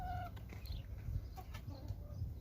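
Laying hens on a family farm cluck softly in scattered short calls over a steady low background rumble, with a few higher squawks mixed in.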